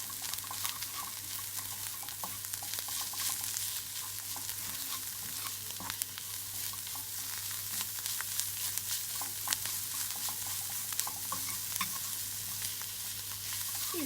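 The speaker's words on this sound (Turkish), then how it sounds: "Kavurduğumuz soğana baharatları da ekleyelim. Şöyle hepsini güzelce bir kavuralım." Onions with added spices being sautéed in a pan, a steady dense sizzle with occasional stirring scrapes, continuous and close with no talking.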